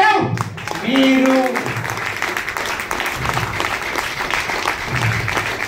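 Audience applause at a motivational training seminar, a steady wash of clapping from a large crowd that runs under loud amplified speech, with a few voiced calls over it.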